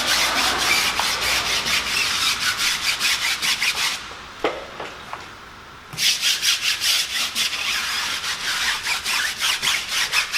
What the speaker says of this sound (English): So now we'll scrub the wheel, we'll agitate the wheel, and then scrub the tire front and back